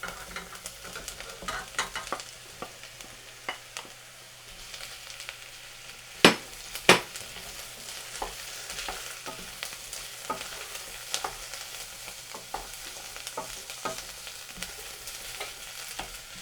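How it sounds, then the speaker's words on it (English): Mushrooms and onions frying in a pan for mushroom risotto while being stirred: a steady, close sizzle with soft scraping and two sharp utensil clinks in the middle. "Get those in, give them a nice stir."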